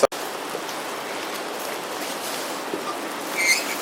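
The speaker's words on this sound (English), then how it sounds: "pouring out the water was a big mistake" Water poured out of a metal canteen cup outdoors, a steady splashing trickle that runs continuously for several seconds after a short knock at the start, with no talking.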